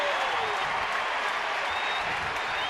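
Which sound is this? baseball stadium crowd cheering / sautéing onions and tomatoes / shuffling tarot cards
baseball stadium crowd cheering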